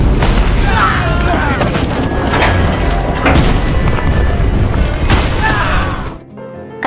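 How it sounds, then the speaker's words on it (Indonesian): Heavy booming blasts of tank cannon fire in a battle between North and South Korean troops, several loud thuds spaced a second or two apart over rumbling battle noise, ending abruptly. "Tentara Korut membalas serangan dengan menggunakan tembakan dari tank"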